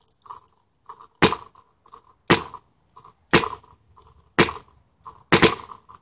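Five sharp, loud paintball marker shots from a Zr1 Renegade fired one-handed, spaced about a second apart, each a crisp pop with a short hiss, with softer mechanical clicks between them.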